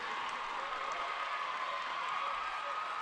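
A large crowd keeps up a steady roar of applause and cheering at a women's college basketball game in Gambier, an even wash of noise from start to finish.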